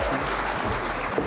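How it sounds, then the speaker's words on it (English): An audience of about five hundred people at a real estate talk, applauding steadily as guests are called to the stage; dense, continuous clapping fills the room. "Please give them a massive round of applause."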